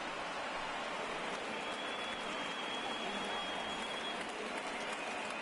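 A crowd of over 38,000 in a video-game baseball stadium cheers on its feet, a dense, even wash of applause and roar that holds steady from start to finish at a distance.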